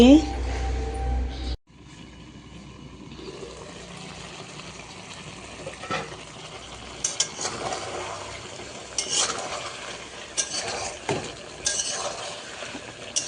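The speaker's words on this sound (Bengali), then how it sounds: "অনেকটাই কষে যাচ্ছে তো এভাবেই কষিয়ে নিব" A bottle gourd curry is stirred and sautéed in a pan over the stove. Soft scraping and faint sizzling run steadily under a low background, with occasional louder spoon scrapes.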